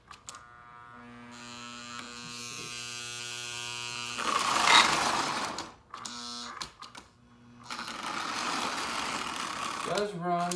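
The electric motor of a 1945 Lionel 2026 toy train, needing cleaning and oiling, whirs with a steady buzzing drone, pausing briefly and restarting, with a short burst of louder noise partway through.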